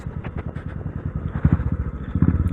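A Royal Enfield 500 motorcycle engine, air-cooled, thumps in a close, loud, even pulse that quickens slightly toward the end, with no talk.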